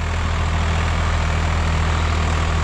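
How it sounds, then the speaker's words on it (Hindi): A Swaraj 855 FE tractor, a 2023 model, runs with a steady, heavy low diesel throb, loud and close, droning evenly without change and with no voices. "2:18 ट्रैक्टर स्टार्ट हो गया था और 2:28 ट्रैक्टर चल पड़ा था"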